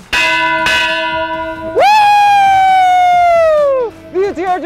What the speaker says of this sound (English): Sarah Brashears, ring that bell!